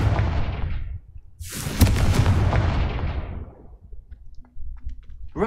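Confringo blasting spell explosion in a Harry Potter video game, a loud rushing blast that fades, followed by a second bigger roaring burst that slowly dies away, close and with no talk.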